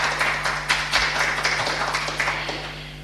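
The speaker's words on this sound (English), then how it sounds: "join me once again, everyone, in applauding him" Audience applause at an academic conference for a speaker, steady dense clapping with scattered louder claps, continuous for several seconds in a hall with a low electrical hum underneath.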